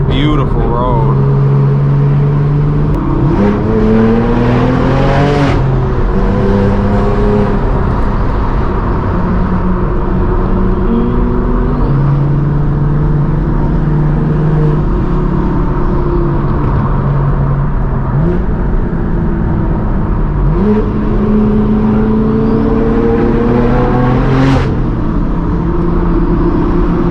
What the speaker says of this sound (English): the turbos, listen to that. This Huracan sounds amazing in front of us